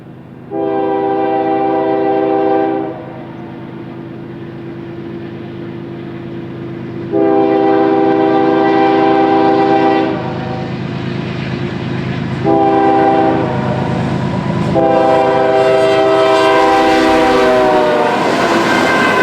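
An eastbound Norfolk Southern empty coal train passes, its multi-tone horn blowing loud and close in several long blasts with gaps, over steady rumble and rail noise.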